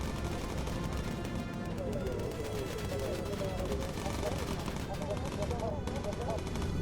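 Rapid machine-gun fire from bomber gunners shooting down enemy fighters in the video game Bomber Crew, steady and continuous over engine drone and game music, with a voice talking over it.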